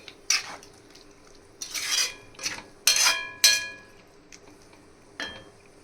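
A spoon scrapes and clatters against a pan while tomato puree and water are stirred for prawn masala, several separate sharp bursts of metallic scraping over a faint background hiss.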